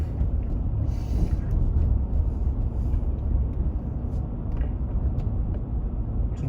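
A car driving through a Laurel, Mississippi neighborhood, heard from inside the cabin: a steady low road and engine rumble with faint rattles, constant and close throughout.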